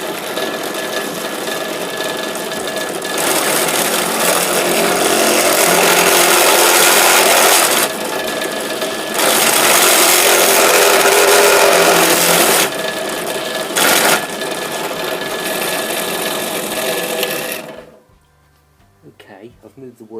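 An electric drill bores out the factory-fitted shear bolts from an FZS600 motorcycle ignition barrel, a loud, grinding whine in long bursts broken by short pauses, then cutting off near the end and leaving near-silence.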